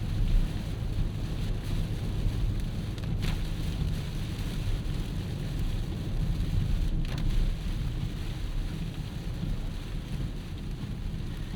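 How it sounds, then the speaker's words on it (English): Steady, dense rain drumming over the cabin of a 2026 Jeep Cherokee turbo hybrid while driving, a constant wash of noise with a couple of faint swishes as the windshield wipers pass. "Well, the wipers do a pretty good job."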